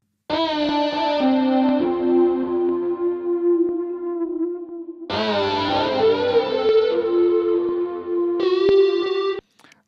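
Sustained electric guitar chords soaked in chorus and echo, swelling and shimmering, with a few held notes and a fresh strum near the end.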